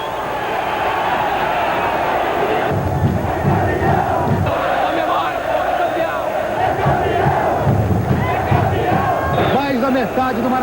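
A huge stadium crowd of Botafogo supporters at the Maracanã roars and chants in unison. The massed shouting swells in rhythmic waves and stays loud and continuous throughout.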